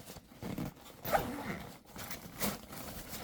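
A zipper on a pair of compression boots is pulled open with rough, raspy bursts of rasping, near and moderately quiet, amid some handling noise.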